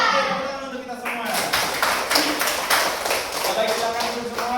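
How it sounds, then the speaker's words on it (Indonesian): A classroom of students claps hands together at a morning lesson, a run of sharp, fairly even claps following a teacher's voice at the start. "tepuk tangan untuk kita semua"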